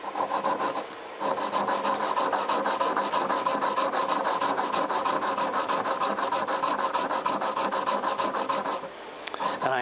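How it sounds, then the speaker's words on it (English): A steady, rapid rasping scrape as a printmaking carving tool is rubbed back and forth on metal sharpening plates, close and continuous for most of the stretch with a brief pause near the start. "I am really liking these little metal stones, whatever you call them, sharpening plates"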